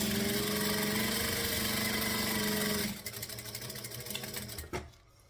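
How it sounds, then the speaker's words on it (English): A sewing machine stitching and back stitching a strap, a loud, close, fast mechanical whir for about three seconds, then a rougher, slower burst of stitches before stopping, with no talking. "Stitch and back stitch."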